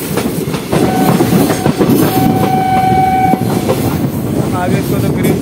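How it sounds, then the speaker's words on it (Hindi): The Delhi Haridwar Express rolls along the rails at low speed, a loud continuous rumble with rhythmic clatter, a sustained horn tone sounding midway, and someone speaking over it. "अपने ट्रेन जो है 30 की स्पीड को मेंटेन करते हुए।"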